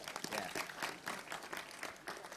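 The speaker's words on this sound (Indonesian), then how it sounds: "tepuk tangan untuk kelompok-kelompok ini" A brief stretch of quiet, uneven clapping from a gathered audience applauding groups at a cultural talk gathering, heard from a distance at a low level.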